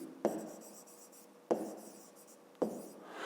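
A pen scratches across paper while a maths exercise is written down, three short strokes each starting with a sharp tap and trailing off, close and quiet.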